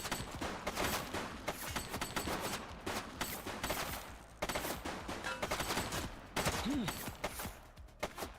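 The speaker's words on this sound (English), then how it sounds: "Shots fired!" Gunfire in the video game Grand Theft Auto VI, dense bursts of rapid shots and automatic fire that go on almost continuously, with brief pauses and a voice speaking amid the shooting.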